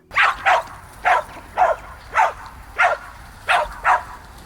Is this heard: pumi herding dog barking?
yes